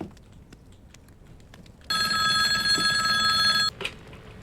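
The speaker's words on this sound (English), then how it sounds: "So the phone's gonna ring." A telephone rings in a video game, one loud, continuous electronic bell tone lasting nearly two seconds, then breaking off abruptly into quiet background.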